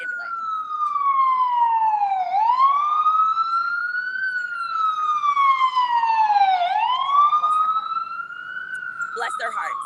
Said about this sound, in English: Oh, wait, no, that's an ambulance.